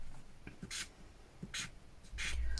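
Paper petals for a junk journal are coloured by hand with a pen or pencil, producing several short, soft scratchy strokes at close range, separated by brief pauses over quiet room tone.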